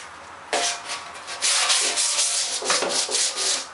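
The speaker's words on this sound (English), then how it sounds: "I just have an old Durablock here" A worn Durablock sanding block rubbed over filler on a motorcycle fuel tank, giving close, rhythmic rasping strokes that start abruptly and repeat steadily, with no voices.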